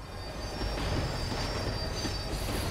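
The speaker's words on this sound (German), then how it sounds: "Tram was slowing down." A tram slowing and braking in the Max Payne video game, steady rail rumble with squealing wheels and a faint clickety-clack throughout, close and fairly loud, no voices.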